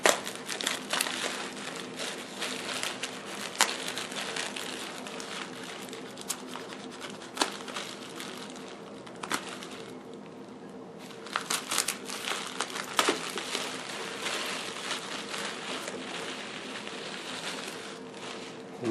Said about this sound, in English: That's tape.